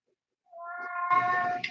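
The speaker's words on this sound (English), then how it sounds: "That's my cat." A pet cat lets out a single drawn-out meow, rising into a louder, harsher wail at the end, heard close and clear against an otherwise quiet room.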